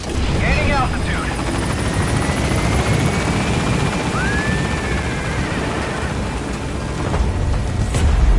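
A helicopter in the video game Metal Gear Solid V lifts off, its steady, dense rotor and turbine roar filling the scene continuously with faint whining tones over it.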